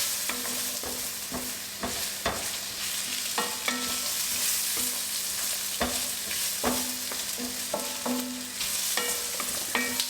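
Vegetables for ratatouille sauté in a pan, a steady sizzle broken by repeated scraping stirs of a utensil against the pan at irregular intervals, close and without talk.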